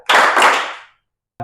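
A classroom of students claps together in a short rhythmic clap routine, a loud burst of clapping lasting under a second, then a brief silence before another clap begins.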